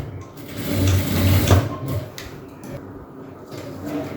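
A sewing machine runs in a quick, loud burst, stitching a pair of shorts, then slows and drops to quieter, intermittent rattling and handling noises.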